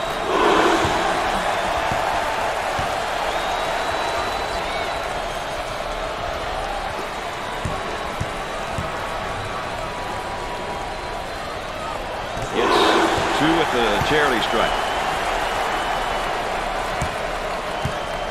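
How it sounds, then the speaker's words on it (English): A packed arena crowd roars and chants steadily in a simulated 2022 NCAA Tournament Sweet 16 basketball game between Purdue and Kentucky. Play-by-play commentary runs over the crowd, with a sharp surge in noise about two-thirds of the way through. "The crowd begins to chant."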